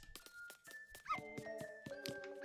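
A dog barks in the video game Yoshi's Crafted World, a run of quick yips and woofs over light game music with a sustained tone, faint and fairly rhythmic.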